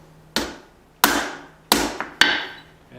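A straight peen hammer forges flat bar over the edge of an anvil in four sharp metallic blows, each ringing briefly; the last two come close together, a quick double strike.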